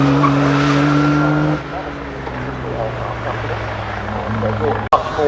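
An early rotary-engined classic car drives past at a classic car event, a loud engine drone with steady harmonic tones that drops in level partway through, with voices over it.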